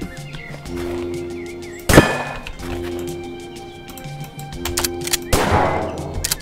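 Buckshot shotgun blasts in the Weapons Simulator video game: two sharp, loud reports a few seconds apart, each with a short ringing tail, over a quiet hum of game ambience.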